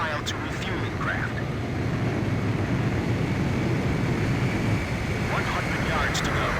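A jet fighter flies toward a refueling aircraft in Ace Combat 5, its engine a steady, loud, unbroken roar filling the whole stretch.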